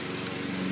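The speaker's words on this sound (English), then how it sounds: "All I can hear is that lawnmower." A lawn mower drones steadily outdoors, a continuous engine hum heard at a distance.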